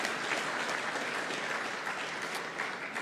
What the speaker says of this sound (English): Let's applaud her one more time.